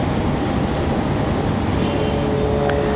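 A Frontier Airlines airplane, flight 2343, departs Raleigh-Durham airport for Dallas Fort Worth, its jet engines a loud, steady roar with a faint tonal whine, heard continuously without talking.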